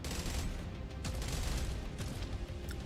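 Rapid gunfire bursts in the sci-fi spaceship game Jump Space, a dense crackling volley layered over a constant low rumble of combat noise, fairly loud and sustained with sharp transient spikes throughout.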